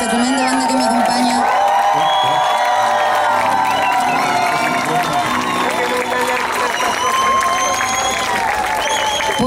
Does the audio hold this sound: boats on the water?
no